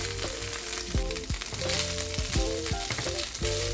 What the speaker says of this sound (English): Add the fluffy cooked bulgur to the sautéed peas